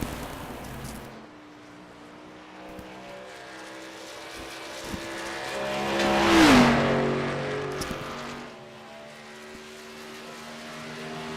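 NASCAR Xfinity race car on a qualifying lap at Pocono, a humming engine that swells as it approaches, peaks with a quick pitch drop as it passes near, then fades away.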